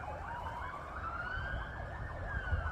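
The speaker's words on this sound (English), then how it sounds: "Oh man, we've got sirens." Emergency vehicle sirens, one rising and falling wail overlapping a slower sweeping tone, heard at a distance over low traffic rumble.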